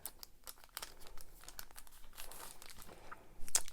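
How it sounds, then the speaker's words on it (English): Adhesive tape is pulled and pressed onto paper while making a scrapbook, giving close, quiet crinkly rips and rustles in short irregular bursts, with a sharper tug at the end. "And let's put some tape again to keep it back."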